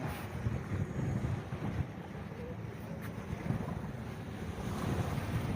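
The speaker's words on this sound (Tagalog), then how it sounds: "Ayan ang karagatan." Ocean waves wash and surge steadily against the shore, mixed with gusty wind buffeting the microphone, with no voices present.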